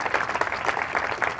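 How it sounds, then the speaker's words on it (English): Outdoor crowd applause at a beachside Blessing of the Waves ceremony, a brief steady patter of many hands clapping at moderate volume. "so yes, absolutely, clap to them."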